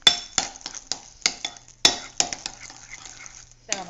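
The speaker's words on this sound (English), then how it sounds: "Okay, I'm going to mix that all together." Squash blossom filling with Asiago cheese being mixed in a bowl, with a series of sharp spoon clinks and scrapes against the bowl in an uneven rhythm, close and moderately loud, with no talking.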